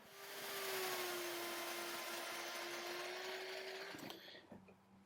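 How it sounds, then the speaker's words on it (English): Power saw cutting a piece of horseshoe steel for a hoof hospital plate, a loud steady whine running for about four seconds before cutting off and winding down. "We're going to cut off a piece of steel that'll slide in between our two heels."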